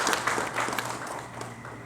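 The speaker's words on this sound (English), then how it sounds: "Let's give Nancy and the team another big round of applause." Applause from an audience at a pump launch event in Zambia, moderately loud at first and tapering off gradually, with scattered claps standing out toward the end.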